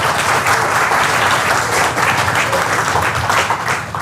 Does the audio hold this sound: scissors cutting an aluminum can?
no